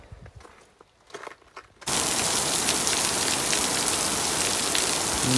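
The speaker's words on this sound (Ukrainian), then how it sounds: "Дощик лупить, звісно, добрячий." Heavy rain pours steadily after a quieter start, a dense, loud hiss of drops drumming on a greenhouse, continuing unbroken.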